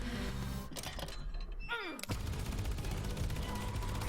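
A big gun fires in a video game trailer with zombies, giving a heavy thunking blast amid loud game sound and effects, with a swooping, descending tone just before the blast.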